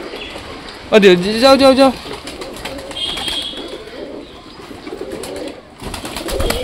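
Domestic pigeons at a backyard loft, with soft cooing and bird calls under a voice repeatedly urging them in, the talk loudest in a brief burst near the start.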